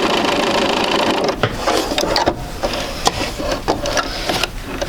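Sewing machine stitching quilt pieces for a sampler quilt, with fabric being fed under the presser foot: a steady close mechanical whir with some clicks and knocks throughout.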